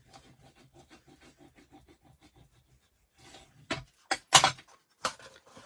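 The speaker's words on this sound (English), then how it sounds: "Give this a little burnish." A scored cardstock fold for a box frame is burnished with quick, soft, rhythmic rubbing strokes. These give way to a few louder, harsher scrapes and swipes near the end, heard close by with no talking.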